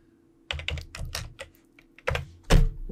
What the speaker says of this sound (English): I start typing in tab